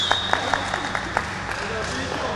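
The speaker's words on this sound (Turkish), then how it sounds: "B takımına bir alkış alalım." A studio audience on a television game show gives team B a sparse round of claps that thins out after about a second, with a steady background tone and voices under it.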